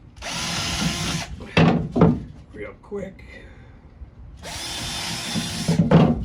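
A power drill pre-drills holes in two long, loud whirring bursts with a short break between them, close up, while a person speaks briefly during the pause.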